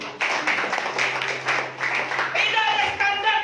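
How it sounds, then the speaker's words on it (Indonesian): A church congregation claps for God during a worship service, a burst of dense applause mixed with voices and a low sustained musical tone. "Coba tepuk tangan dong bagi Tuhan."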